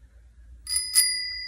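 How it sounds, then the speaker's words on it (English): Two bright rings of a bicycle bell sound in quick succession, close and clear, the second ring ringing out and fading slowly against near silence. "I hear the bell of a bicycle."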